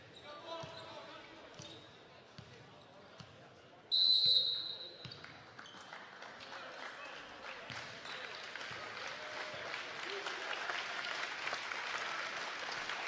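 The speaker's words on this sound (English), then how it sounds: "Monroe fans give their starting five a round of applause" Crowd at a high school boys varsity basketball game, Monroe fans applauding their starting five, swelling into sustained, moderately loud clapping and cheering in a gym after quieter game noise with a few thumps.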